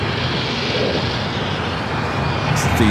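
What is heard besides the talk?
Boeing 787-10 Dreamliner arriving at LAX from Newark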